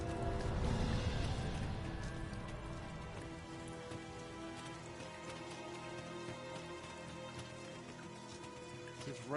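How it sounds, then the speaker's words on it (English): Soft, steady rain in the video game Dragon's Dogma 2 patters on a surface, a dense even hiss with faint tonal music-like layers underneath; no voices, fairly quiet throughout. "It's raining."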